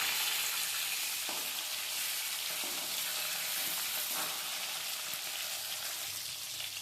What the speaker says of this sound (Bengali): এইভাবে সব মাছগুলো ভেজে নেবো।